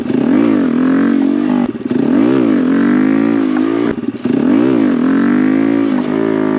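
A Honda Grom motorcycle engine revs hard during wheelie practice, rising and falling in repeated surging pulls, loud and close, with two brief dips where the throttle cuts before climbing again.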